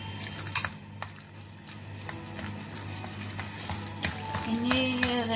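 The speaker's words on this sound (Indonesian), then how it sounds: "Kita campur." Minced fish and chicken with salted vegetables are mixed in a bowl with steady wet stirring and occasional clinks of utensil against the dish, close and moderate, with no talk.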